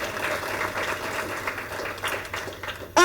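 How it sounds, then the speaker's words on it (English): An audience applauds steadily at an award banquet, with dense clapping that holds at an even level throughout and ends with a brief louder burst. "Give Ariana a round of applause."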